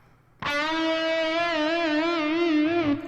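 A single sustained electric guitar note, bent and held with a wide, slow vibrato that wavers in pitch for about two and a half seconds, then stops.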